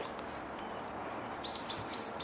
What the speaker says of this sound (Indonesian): tuh banyak burung juga guys